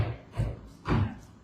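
Two heavy thuds of a door banging, spaced about half a second apart, close and fairly loud with short rattling decays.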